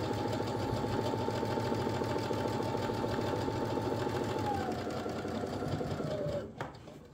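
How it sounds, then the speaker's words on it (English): A sewing machine stitches fabric at a 5mm stitch length, its steady, rapid mechanical chatter running close and even for several seconds before it slows and stops near the end. "we'll start sewing"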